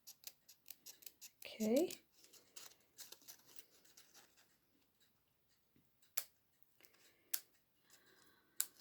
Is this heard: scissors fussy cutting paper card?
yes